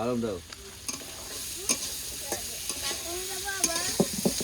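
Curry of peas, potatoes and black-gram lentil dumplings stirred and frying in a pan, with scraping stir strokes over a steady sizzle and a few faint voices in the background.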